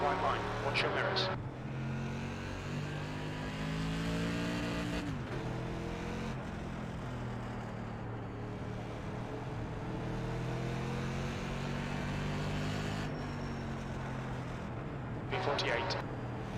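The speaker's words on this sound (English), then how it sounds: "There's a car approaching." A race car in the iRacing sim drones steadily, its engine tone rising and falling in a few shifts. Voices speak faintly over it.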